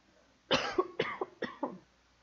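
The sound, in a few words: cough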